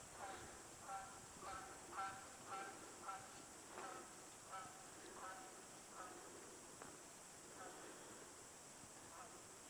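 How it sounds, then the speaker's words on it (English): Distant geese honk in a loose, repeated series across a quiet, icy spring trail in a boggy park, each call faint and far off against steady background hiss. "Hear geese off in the distance over in that way"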